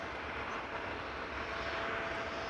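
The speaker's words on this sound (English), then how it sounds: "Now, if there's one airplane that you already don't hear when it is spooling up, it is the A220." Air Baltic Airbus A220 engines spooling up at Amsterdam Schiphol Airport, a smooth steady jet whoosh with a faint thin whine above it, distant and even in loudness, heard alone.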